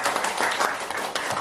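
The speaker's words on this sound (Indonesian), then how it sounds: "kita kasih tepuk tangan Bapak Ibu" Audience at an event at SD Negeri Bintaro 12 elementary school applauding, a brief burst of dense, steady clapping heard alone at close range.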